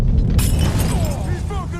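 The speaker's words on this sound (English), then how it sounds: "Molotov going out! On to you, buddy. That goes fire!" A Molotov cocktail thrown in Mafia 3 shatters with a sharp glassy crack, followed by a rushing burst of flame and crackling fire under a man's speech.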